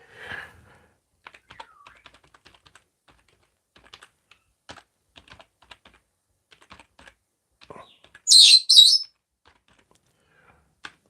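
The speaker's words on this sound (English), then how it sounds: "I'll type it in myself here" Sparse keyboard clicks at a desk, scattered light taps spread across several seconds, fairly quiet, with a brief louder chirp-like burst near the end.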